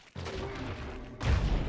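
Magic missiles fire in the PS2 game Baldur's Gate: Dark Alliance, a sustained whooshing blast followed by a louder, heavier burst of impact noise, close and dense.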